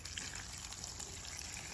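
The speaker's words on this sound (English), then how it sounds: "Now let's just go rinse her off with some water" Water rinses cleaner and grime off a car, a steady hissing spray and trickle running continuously at moderate to low volume with no voices.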